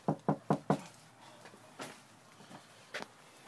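Four quick knocks on a door, close and loud, followed by a few fainter taps and rustles before one more soft knock, at a Halloween trick-or-treat visit.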